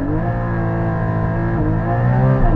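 A 2022 Porsche Cayman GT4 engine revs hard and pulls through a hard launch, a loud, steady harmonic roar with a brief dip in pitch partway through as the revs climb again.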